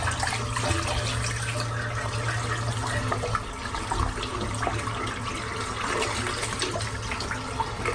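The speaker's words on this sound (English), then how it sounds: "can rinse the soap" Tap water runs steadily to rinse a firm shaving soap at a sink before a straight-razor shave, a continuous close splashing stream with no talk.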